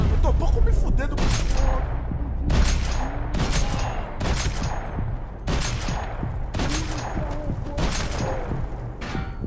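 Max Payne 3 gunfire on a dance floor: repeated loud bursts of shots at a steady pace, each a sharp crack with ringing echoes, close and dense, with busy ambient noise underneath.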